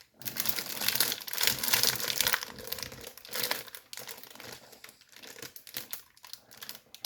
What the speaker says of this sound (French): On va enlever les papiers comme ça.